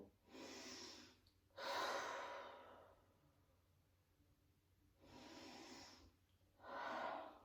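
Slow, soft breathing during a Pilates exercise, four long breaths in and out at a relaxed, even pace, close and quiet with no talking.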